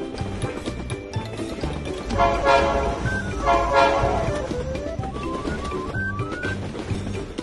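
A toy train approaches with a bright, tooting whistle and mechanical running noise, joined by rising and falling tones, fairly loud and close.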